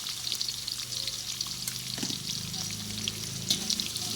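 Onions sizzling steadily in hot oil in a pan for chicken biryani, with a continuous bright crackle and occasional stirring scrapes, close and moderately loud, no talking.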